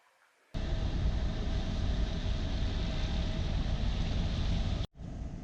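A Hallberg-Rassy 54 sailboat motoring along a calm shore off Long Island, its engine a steady, even drone with rushing water and wind noise that starts abruptly and runs unbroken for about four seconds before a brief dropout.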